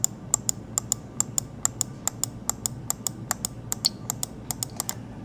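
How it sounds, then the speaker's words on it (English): A computer mouse clicks in a quick, regular series of sharp, close taps, about four per second, over a faint low background hum. "I was clicking with my mouse"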